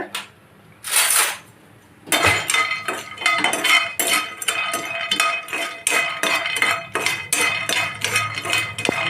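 Peanuts fry in oil in a pan for a Karnataka-style stuffed brinjal sambar, with busy, close clinks and rattles of a spoon stirring against the metal pan after a brief burst of crackle at the start.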